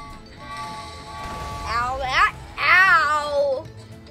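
Cartoonish cat meows from the video game Book of Monsters, two rising and falling mewing calls close together over background game music, loud and near.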